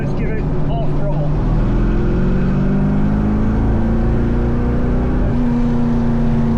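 An LS-swapped Firebird's V8 with a fuel pressure problem drones loudly and rises steadily in pitch under half throttle, a close, continuous pull with a brief voice near the start.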